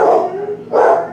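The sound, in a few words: dogs barking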